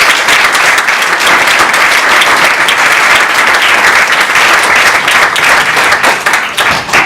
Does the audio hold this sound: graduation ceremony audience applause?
yes